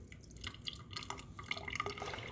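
A leaking faucet in a school science lab lets water drip, light irregular plinks falling one after another into a sink, faint and close against a quiet room.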